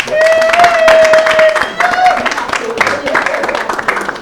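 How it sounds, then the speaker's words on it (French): A live show audience applauds the Miss High-Tech Cameroon finalists, with loud, close clapping mixed under a sustained voice and other sound. "On peut applaudir pour les Miss."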